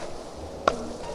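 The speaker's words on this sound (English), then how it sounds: "Chop, chop, chop." A single sharp axe chop against a tree in the survival game Don't Starve, one brief crisp hit over a faint steady background.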